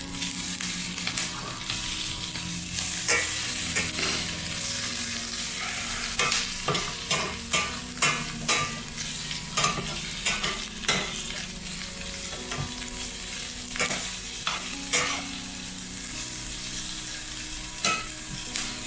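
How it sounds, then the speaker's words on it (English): Food frying and caramelizing in a hot pan, with continuous sizzling broken by repeated stirring and scraping scrapes, close and steady throughout. "the smaller bits especially are getting nice and caramelized in here"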